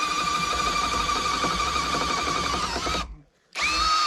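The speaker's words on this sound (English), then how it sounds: "You gotta get all the metal filings off, otherwise it just jams up the drill bit." A power drill grinds through metal in an underground bunker, a loud sustained whine with a steady gritty rasp that cuts off abruptly for half a second before starting up again.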